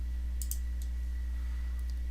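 Two or three quick, sharp computer mouse clicks, close and fairly quiet, over a steady low electrical hum in a quiet room, with no one speaking.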